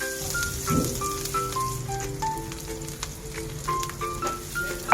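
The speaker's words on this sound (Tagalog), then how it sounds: "mekos-mekos lang natin hanggang sa mag-light brown po ang ating red onion" Red onion sizzles as it sautés in a pan for a home-style pork steak, a continuous close frying crackle with faint tonal sounds in the background and no voices.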